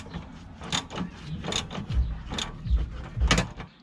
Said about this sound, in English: now I'm going to slacken the bolt for the tension strut